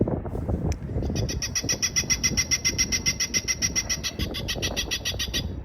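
A bird-deterrent device on a rooftop HVAC unit plays rapid, repeating, falcon-like electronic shrieks that pulse rhythmically over low background rumble.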